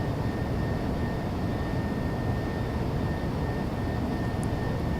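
A Boeing 757-200 airliner decelerates in Flight Simulator X, giving a steady, even engine and airflow rumble that holds throughout with no speech.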